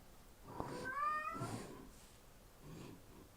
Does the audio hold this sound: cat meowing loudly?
yes